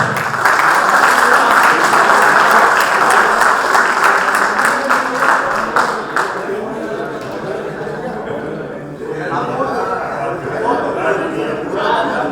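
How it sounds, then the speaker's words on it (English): Audience at a cricket league auction ceremony claps for the honors, dense loud applause at first that thins out, followed by murmured chatter and talk. "Give a big round of applause for all the honors."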